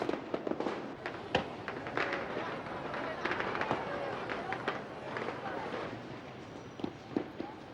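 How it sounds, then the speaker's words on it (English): Rockets and firecrackers go off all around a lake during Tet celebrations, with a continuous crackling barrage and scattered sharper bangs, some close and some distant, under a busy crowd murmur. "Rockets are unleashed and firecrackers set off all around the lake in a sudden burst of light and sound."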